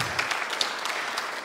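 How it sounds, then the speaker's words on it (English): Members of a church congregation at a Sunday service clap together, a brief burst of steady, moderately loud applause with no voices. "Can you just give her a clap for that?"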